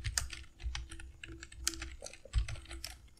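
Close-up typing of C code for an if-else program on a computer keyboard: quick, uneven clusters of key clicks with a heavier thump near the end and no talk over it.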